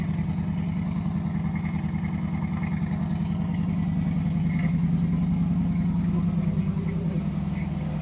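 A Chevrolet small-block 350 V8 idles after a cold start, following a timing adjustment, a steady close, rumbling lope with an even pulsing beat throughout.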